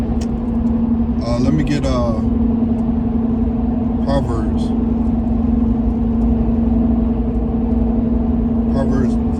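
Car engine humming steadily while driving, a constant close drone inside the cabin, with someone speaking briefly over it a few times.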